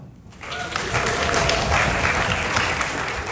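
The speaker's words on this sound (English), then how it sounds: "How about a show of clapping and stomping?" Theater audience at Grizzly Hall in Disney's Magic Kingdom, at a D23 event for the refurbished Country Bear Jamboree, bursts into sustained clapping and foot stomping with a few whoops, loud and steady throughout.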